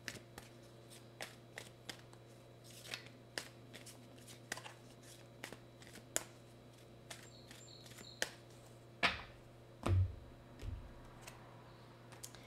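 Angel oracle cards being handled and shuffled, a sparse run of soft, close clicks and taps at irregular intervals over a faint steady hum, quiet with no talking.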